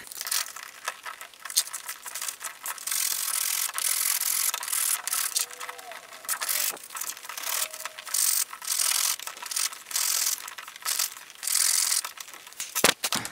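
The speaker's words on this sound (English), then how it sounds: "once you have sanded down both of these surfaces" Sandpaper rubs steadily over a wooden surface, a close, continuous raspy scrubbing with short pauses and strokes, and no voices.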